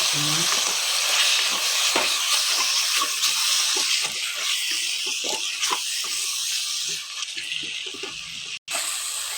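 Spice paste for chilli chicken frying in a pan, a loud continuous hissing sizzle with scraping stirs, and a brief cut near the end.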